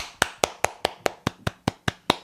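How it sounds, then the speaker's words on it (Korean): Hand claps ring out one at a time, about ten sharp, evenly spaced claps in quick succession. They are close and crisp with nothing else behind them. "네, 박수로 맞아주세요."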